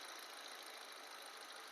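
A petrol car engine runs at a steady, even idle close by, with a constant hum and no talking.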